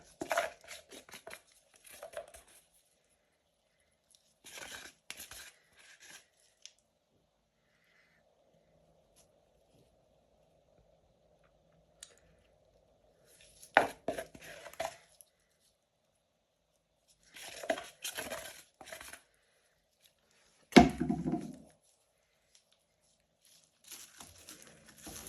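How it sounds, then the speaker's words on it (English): A spoon scrapes at Jesmonite AC100 being worked into a marble-effect piece, giving close, intermittent bursts of rough scraping separated by long quiet gaps, with no talking. "I will use my spoon to scrape it."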